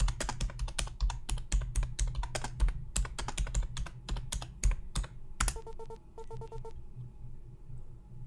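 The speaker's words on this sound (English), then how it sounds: "Did I type it wrong?" Rapid typing on a computer keyboard, close and crisp, sounds as a fast irregular run of clicks that thins into a few short bursts of keystrokes, with no talking.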